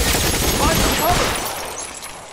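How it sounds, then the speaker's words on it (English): Gunfire in the L.A. Noire video game crackles as a loud, dense, continuous volley that tapers off slightly, with a voice mixed in. "Who the hell's shooting?"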